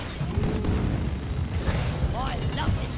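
Grenade explosions in Deep Rock Galactic, a rumbling run of booms and bursts filling the whole stretch, loud and close, with a player talking over the blasts.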